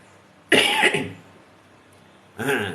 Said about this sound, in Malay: Batuk ni.